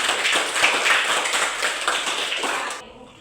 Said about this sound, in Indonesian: kasih dulu tepuk tangan untuk anak-anak ini